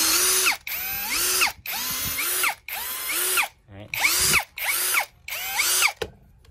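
A Chinese domestic-market cordless 16V battery drill fitted with a hex bit runs in short bursts of about half a second to a second, whirring loudly and close with a ratcheting edge, stopping and starting about seven times.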